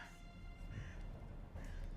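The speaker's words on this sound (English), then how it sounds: "And now we have portentous birds." Crows caw in The Witcher video game, a few harsh calls at mid distance over a steady low ambient game background.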